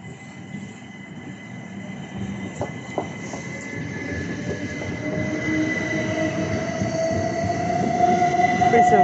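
A Southeastern Class 375 electric train pulls out of Waterloo East station, its rumble building steadily. A rising wheel-squeal whine, scattered clicks and clanks over the rails, and a constant platform hum all sit close by.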